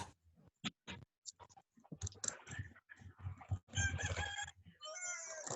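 Rooster crowing in a Spanish-language online class, with intermittent clicks and a crow-like call toward the end, fairly faint.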